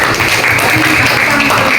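A classroom of students applauds a classmate, a dense, loud, continuous burst of clapping close by, sustained across the short stretch with a bit of voice mixed in.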